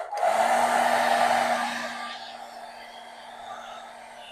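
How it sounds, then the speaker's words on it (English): A hair dryer blows with a loud steady whoosh and a constant motor whine, easing off to a lower, quieter airflow after a couple of seconds. "So here's my blow dryer, and we're going to dry now."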